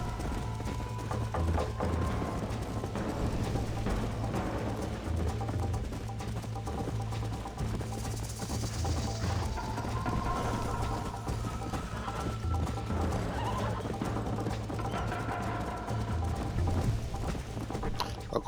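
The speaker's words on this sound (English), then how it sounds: "O cavalo me derruba quando fica cansado, mano." Hooves clip-clop steadily under a low in-game hum as a horse moves through Red Dead Redemption, with a continuous galloping rhythm close by and no clear whinny standing out.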